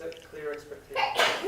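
A single sneeze bursts out near the end of a short stretch of talk, sharp and fairly loud, during a live presentation session.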